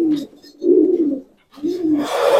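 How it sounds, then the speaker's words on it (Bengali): Pigeons in a pairing loft give two rounds of low, throaty cooing, close by and fairly loud, with a brief pause between them and a burst of hissy noise toward the end. "দুটো পায়রা হাতে নাও"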